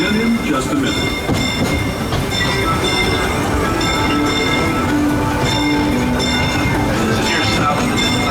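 Disneyland monorail train in Tomorrowland, a steady rumbling ride noise with faint clacks and tonal whine throughout, heard from inside the car.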